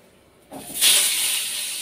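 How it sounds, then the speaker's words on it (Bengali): Young, seedless eggplant slices rubbed with salt and turmeric hit hot oil, a quiet moment giving way to a sudden loud sizzling hiss that swells and then holds steady. "বেগুনটা ভাজতে দিয়ে দিচ্ছি"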